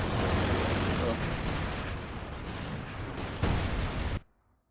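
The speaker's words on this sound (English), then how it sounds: "Beautiful artillery strike to end the match." An artillery barrage lands in the World War II strategy game Company of Heroes 2, a dense rumbling roar of blasts with a sharper impact near the end before the sound cuts abruptly to near silence.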